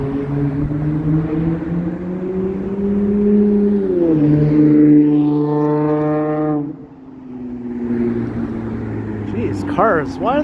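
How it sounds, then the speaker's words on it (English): Noisy cars passing on a Toronto street, engines droning and rising and falling in pitch as vehicles go by close, with a louder passing engine in the middle and brief squeaks near the end. "Jeez, cars. Why are they so noisy?"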